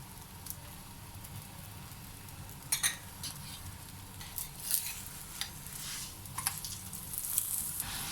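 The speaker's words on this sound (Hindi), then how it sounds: "बिल्कुल धीमी आंच पे आपने इस तरह से पराठे को साइड कर करके पकाना है" Lachha paratha cooks in ghee on a pan over very low heat, giving a faint, steady sizzle with scattered soft crackles and small pops.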